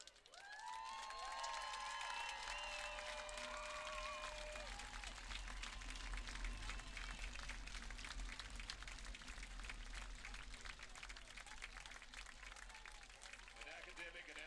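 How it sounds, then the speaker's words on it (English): Sustained applause from a crowd in the stands at a varsity high school football game, Oak Ridge vs Vacaville, a steady dense roar of clapping and cheering with some whistles near the start. "giving her and her family a rousing, noisy, loving support of applause"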